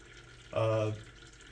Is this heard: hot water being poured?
yes